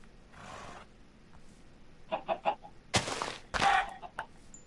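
Chickens in Minecraft clucking in a few short, clipped bursts, close and fairly loud, mixed with sharp game hit and pickup sounds and faint background noise, with no speech.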